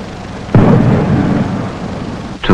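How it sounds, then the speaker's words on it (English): A rocket lifts off the ground with a sudden loud roar that bursts in and holds as a dense, rumbling wall of noise, briefly dipping near the end before surging again. "The rocket lifts itself up from the ground."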